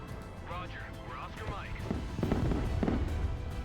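Units shooting in a military video game make a quick series of popping bursts and crackles under a voice, moderately loud and close.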